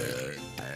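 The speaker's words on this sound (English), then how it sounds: "I'm burping" A single low, croaky human burp, brief and fairly close, lasting under a second.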